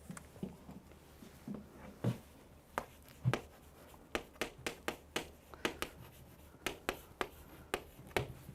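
Handwriting out a math solution during a lecture: close, crisp pen taps and strokes in an irregular rhythm, growing denser toward the end, quiet with no talking.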